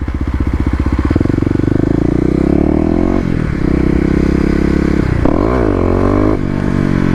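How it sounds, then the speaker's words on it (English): A Kawasaki KLX250 motorcycle doing a rear-wheel burnout, its single-cylinder engine revving loud and close, the pitch rising and falling across several throttle blips over a rough, scrubbing rumble. "It's kind of interesting to find out that the rear wheel will kind of do a burnout."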